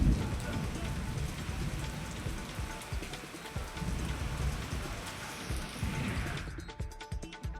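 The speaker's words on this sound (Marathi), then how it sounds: "बुलढाणा शहरामध्ये सुद्धा अवकाळी पावसानं हजेरी लावली आहे." Unseasonal rain falls on Buldhana town, a steady patter of drops on surfaces with scattered sharper splashes, fairly soft and continuous before cutting off near the end.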